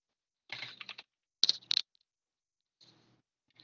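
Typing on a computer keyboard, a few short bursts of quick key clicks separated by silence, close and moderately quiet.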